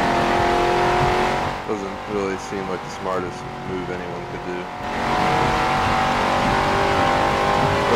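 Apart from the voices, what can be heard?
muscle car engine revving in Forza Motorsport 7 video game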